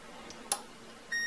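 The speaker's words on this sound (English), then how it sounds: "we can hear the audible beep" A multimeter continuity tester, probing relay pins in a Raspberry Pi GPIO home automation setup, gives a sharp click and then a steady, clear high-pitched beep that starts near the end and holds.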